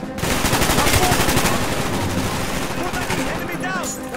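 Dense rapid gunfire from the Call of Duty Black Ops video game, sustained machine-gun bursts and volleys loud and continuous throughout, with a voice speaking over the shooting.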